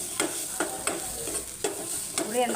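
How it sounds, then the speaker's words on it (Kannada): Spices fry in a pan with a steady bright sizzle while a spoon scrapes and stirs through them in a few distinct strokes, close and fairly loud, with no voices. "ಇದರಲ್ಲೇ ಫ್ರೈ ಮಾಡಬೇಕು ನೋಡ್ರಿ"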